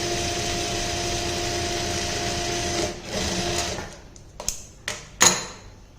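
A sewing machine runs steadily, stitching pintucks into a neck design, a continuous close mechanical whir that slows and stops partway, followed by a few sharp clicks and knocks as the fabric is handled.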